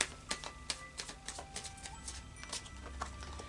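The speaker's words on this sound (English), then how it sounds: "So I'll just do a final shuffle now of the Tarot of Dreams." Tarot cards are shuffled in a rapid series of crisp, flicking clicks, steady and close up, with no talking.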